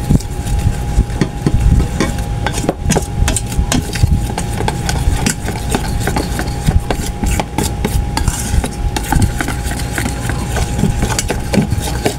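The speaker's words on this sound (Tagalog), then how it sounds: "Haluin natin maigi yung ating harina." Flour mixed with sweet potato for kalingking, a Filipino rice cake, stirred by hand in a bowl: a steady, close scraping and thudding with quick uneven strokes, loud and continuous with no talking.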